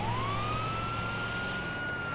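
An ambulance siren in a racing video game wails steadily, a continuous rising-then-level tone with engine and road rumble underneath, loud and close throughout.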